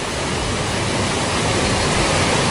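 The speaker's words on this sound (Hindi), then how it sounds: "नागा वाटरफॉल, कितना हाई स्पीड से पानी गिर रहा है।" Naga waterfall pouring down at high speed in the rain, a dense, steady, full roar of falling water, loud and close, with no other sounds breaking through.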